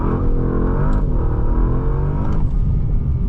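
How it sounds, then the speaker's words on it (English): A 2025 Bentley Flying Spur Speed launches hard under launch control in sport mode, its engine roaring loudly and steadily as the car accelerates, heard from inside the cabin with no talking. "Now let's go ahead and put this thing back into sport mode and do a little launch control."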